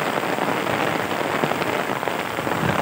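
A torrential downpour falls on a garden with trees, a dense, loud, unbroken hiss of rain hitting surfaces close by, with no pauses and no voices.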